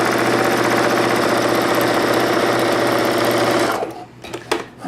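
A sewing machine runs a straight stitch for French seams, a loud, steady, close mechanical whir with rapid needle chatter that stops after about four seconds, followed by a few light clicks.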